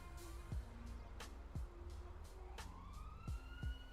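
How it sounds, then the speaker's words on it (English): Police siren in the GTA 5 video game, sounding in short bloops and rising wails over a steady low engine rumble, moderately distant. "Oh, that's a different siren."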